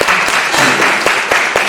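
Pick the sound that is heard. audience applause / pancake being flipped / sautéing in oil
audience applause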